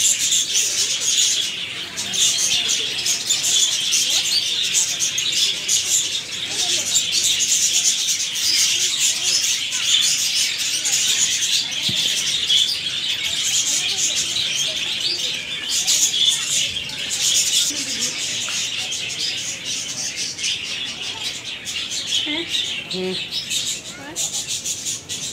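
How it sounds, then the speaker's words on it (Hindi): Small parrots at a mini zoo keep up a dense, continuous chatter of high chirps and tweets, loud and close, with no break across the whole stretch. "आगे से सारे छोटे तोते हैं सारे"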